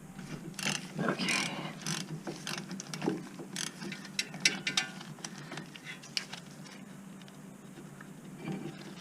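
Hand ratchet clicking repeatedly as it loosens a Torx T45 bolt on the brake assembly of a Lincoln Navigator, a steady run of close, quick ratcheting over faint background hum.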